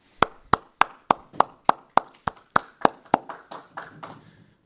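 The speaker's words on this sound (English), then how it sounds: "Let's give them a great round of applause." Audience applause for newly ranked Eagle Scouts at a council event comes as a steady series of about fourteen sharp, evenly spaced claps, loud and close, gradually softening toward the end with no talk over it.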